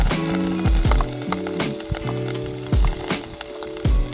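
Chopped onion sizzling in a hot pan during outdoor cooking on a motorcycle trip in the Sierra Madre, a steady close hiss broken by repeated scraping knocks of a utensil against the pan, with no talking.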